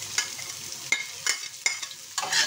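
Chopped red onion and garlic sautéing in hot oil in a pan for bihon canton guisado: a steady close sizzle broken by several sharp scraping stirs at an uneven rhythm.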